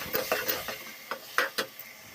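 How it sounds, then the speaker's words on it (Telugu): Fish curry ingredients frying in a pan while being stirred, a few irregular close scrapes and clinks of a utensil over a faint sizzle, no voices. "ఇందులో బాగా వేయించుకోవాలండి. బాగా కొంచెం దోరగా వచ్చే వరకు అందులో వేగాలి."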